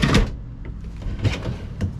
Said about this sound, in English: Soft close doors.